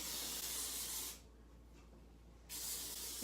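Hairspray hissing from a can in two long bursts onto hair, close and steady, with a brief quiet gap between them, no voices.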